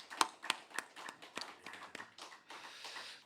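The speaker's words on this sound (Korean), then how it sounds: "박수를 올려드리겠습니다." Church congregation at a Sunday afternoon worship service claps, with sharp scattered hand claps that loosen into a soft, uneven patter across the hall, fairly quiet and with no voices.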